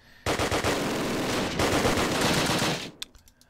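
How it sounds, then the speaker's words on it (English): German machine guns in the WWII strategy game Close Combat, set at Arnhem, rattle in a loud, continuous burst lasting a few seconds, followed by scattered single shots. "But retaliation of the German MGs."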